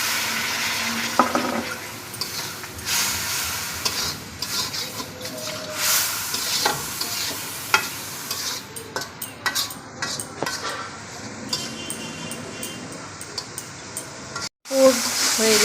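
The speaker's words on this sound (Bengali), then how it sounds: "জল দেব মাংসটা সিদ্ধ হওয়ার জন্য" Chicken filling for paratha cooks in a pan with added water, giving a steady sizzle and bubbling broken by repeated stirring and scraping of a utensil against the pan, fairly close and continuous throughout.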